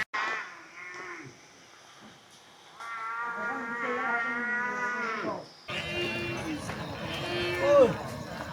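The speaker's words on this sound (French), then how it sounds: "C'est déjà le moment le plus animé de ce marché au buffle." Cattle and buffalo low and moo at a busy livestock market in Bac Ha, Vietnam, with several animal calls rising over a steady crowd murmur and voices talking nearby.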